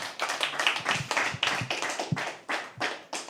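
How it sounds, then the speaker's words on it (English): Audience applause at a live poetry open mic, a dense run of hand claps with sharper individual slaps standing out, steady and fairly close for the whole stretch. "Keep clapping till he comes all the way here."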